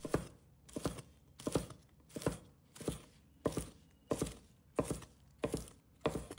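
A knife chops green onions into short pieces on a cutting board, giving about ten evenly spaced, crisp thunks in a steady rhythm, close and clear with no talk.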